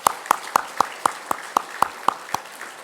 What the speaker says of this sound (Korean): 축복의 박수 한번 보내주시면 고맙겠습니다